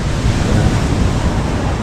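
Waves wash continuously onto the seashore in a loud, steady roar, with wind buffeting over the surf throughout.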